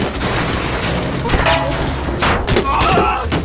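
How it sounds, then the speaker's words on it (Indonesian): In a crime film scene, police open fire and a loud volley of gunshots rattles out, heard beneath a voice speaking over the action. "para polisi pun telah tiba dan menembaki mereka berdua"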